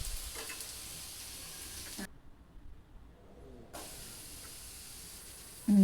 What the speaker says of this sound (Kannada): ನೋಡಿ ಹೇಗೆ ಸೌಂಡ್ ಕೇಳಿಸ್ತಾ ಇದೆ ಅಂತ, ಕ್ರಿಸ್ಪಿಯಾಗಿರೋದು.